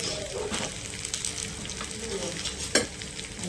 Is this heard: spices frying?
yes